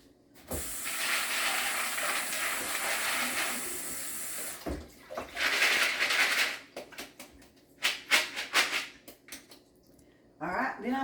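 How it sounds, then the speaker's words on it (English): Water running from a tap into a pan to rinse dry lima beans, a steady hiss for several seconds, then cut off, followed by scattered splashes, clinks and brief bursts of water. "I'm just going to rinse them off"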